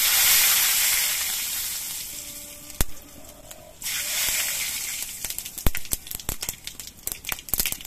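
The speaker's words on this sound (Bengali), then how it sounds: "এবার এই তেলের মধ্যে অল্প করে একটু কালো সর্ষে ফোড়ন দিচ্ছি" Black mustard seeds tempering in hot oil in a kadai for a fish and mango curry, giving a steady hiss that fades, then a run of sharp irregular pops and crackles as the seeds begin to burst.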